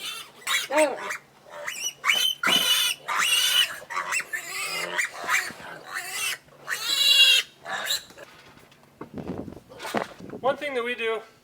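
Baby pigs on a farm squeal and grunt in shrill, overlapping bursts, near and loud, with several animals crying repeatedly throughout.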